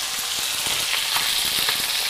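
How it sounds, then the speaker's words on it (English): Chicken sizzles in a hot pan on high heat for a Thai-style cashew curry, a loud continuous crackling hiss with small pops, heard up close without talk. "And now I'm starting to hear a sizzle."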